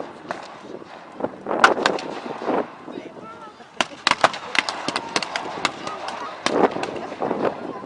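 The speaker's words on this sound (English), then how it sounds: "And with a final burst of fire, the Brits go forward." Volleys of rifle and cannon-style gunfire from a British battle reenactment at a history festival, sharp cracks and bursts repeating irregularly at a distance, loudest in a rapid cluster midway, with an announcer's voice talking over it.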